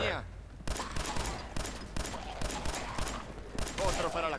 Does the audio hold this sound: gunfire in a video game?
yes